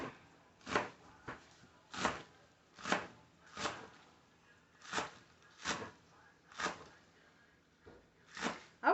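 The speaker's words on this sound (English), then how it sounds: "I'm gonna take off the ends here. And just slice these up." Green onions sliced with a knife on a cutting board, making a steady run of sharp, close chops spaced about every half second to second, with no talking.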